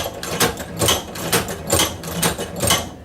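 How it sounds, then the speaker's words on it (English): A hand-operated leather sewing machine stitching up close, giving a steady, rhythmic mechanical clack about twice a second, each stroke a sharp burst with a softer rattle between. "Then we'll go ahead and continue sewing."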